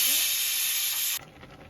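Pork with bamboo shoot boiling in a pot gives off a loud, steady steam hiss that cuts off abruptly partway through, leaving a faint, quiet bubbling.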